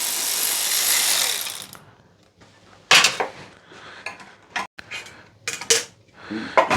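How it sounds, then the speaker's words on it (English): A small ratchet wrench cranks in a cold workshop while a Citroën 2CV air-cooled flat-twin engine is taken apart, giving uneven bursts of clicking and metallic clatter after a stretch of hiss. "The little ratchet thing is not very happy"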